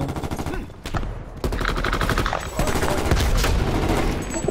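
Gunfire in Call of Duty on the Nuketown map, loud rapid bursts of automatic shots crackling almost continuously with short gaps, dense and close, with no voices over it.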